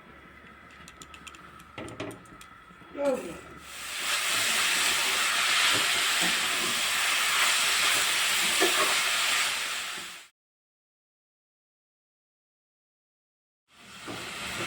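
A gas stove burner catches and settles into a steady, loud rushing hiss after a few clicks and taps, holds for several seconds, then cuts to silence before another burst of hiss begins.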